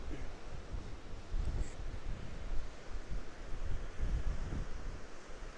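Steady roaring wind buffets the microphone with low rumbling gusts on Kinder Scout moorland, broad and continuous throughout, with no voices.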